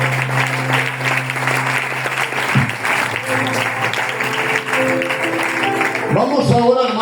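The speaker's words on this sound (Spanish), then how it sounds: "Un aplauso a la palabra." A church congregation clapping together in sustained applause for a reading of scripture, a dense, loud, even roar of hands lasting several seconds, with a voice speaking over it near the end.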